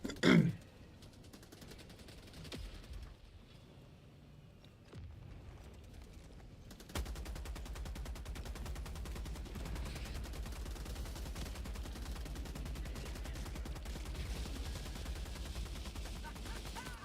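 Heavy machine gun fire in a video game rattles as a rapid, continuous stream after a brief burst and a quieter reload pause, steady and moderately loud.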